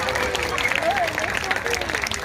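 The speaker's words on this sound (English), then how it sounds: "please do give him a clap" Crowd clapping at a sea lion show at West Midlands Safari Park, continuous steady applause from a sizable outdoor audience with chatter and a presenter's voice running underneath.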